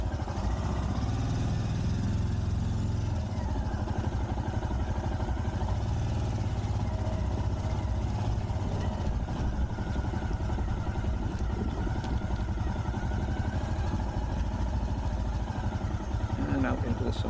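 A motorcycle engine drones steadily and loudly throughout while riding out of a camp and up a farm track, with constant wind and road rumble close to the mic.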